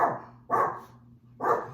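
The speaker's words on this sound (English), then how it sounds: "there's a dog" A dog barks outdoors during a walk, two or three loud sharp barks close by, spaced about a second apart, with no talking.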